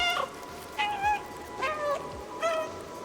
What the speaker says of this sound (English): there's a dedicated meow button